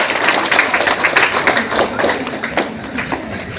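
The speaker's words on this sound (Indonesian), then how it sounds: "Tepuk tangan para penyedia." Short burst of applause at a school visit by the provincial head of education in NTT, brisk overlapping hand claps filling the moment at moderate loudness.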